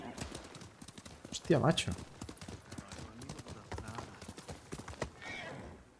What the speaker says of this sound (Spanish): El caballo japonés este está loco.